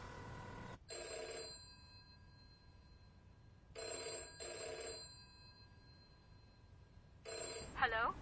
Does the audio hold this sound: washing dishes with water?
no